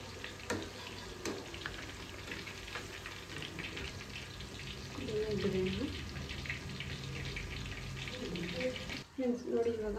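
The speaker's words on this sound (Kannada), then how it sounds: "ಇವಾಗ ಡೀಪ್ ಫ್ರೈ ಮಾಡಿದ್ದೀನಿ" Garlic kabab deep frying in hot oil over a medium flame, a steady crackling sizzle running throughout with faint clatter and some running-water-like wash, one brief break near the end.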